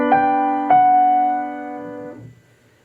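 Piano plays the opening notes of a song from Anastasia, a few sustained, ringing tones struck close and clear, fading out at the end with no talking.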